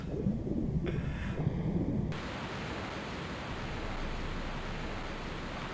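A steady broadband roar of a waterfall in the game Tomb Raider I Remastered, constant and enveloping, with some muffled low thuds from the game during the first two seconds.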